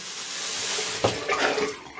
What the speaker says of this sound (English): Use my Allen block, rub it under some cold water